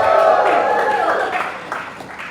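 An audience at a green growth convention on Saipan cheers and claps in a brief, dense burst of voices and applause that fades over a couple of seconds.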